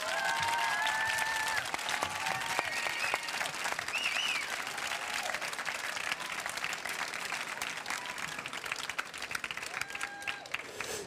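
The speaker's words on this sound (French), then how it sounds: "Merci d'accueillir avec vos applaudissements Amélie Nothomb et David Fuenquinos." A large audience applauding as authors Amélie Nothomb and David Foenkinos are welcomed, dense sustained clapping across the hall with faint cheers and whistles rising above it, continuous throughout.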